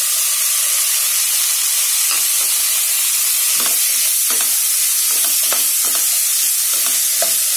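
Chopped tomatoes sizzle steadily in a hot pan for kadai paneer gravy, a constant frying hiss with occasional stirring scrapes and clinks close by.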